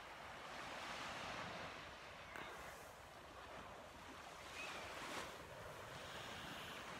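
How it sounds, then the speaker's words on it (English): Calm sea at Barmston Beach in East Yorkshire washes steadily onto the shore as a continuous soft hiss, with light wind buffeting the microphone and no voices. "Look how calm that sea is."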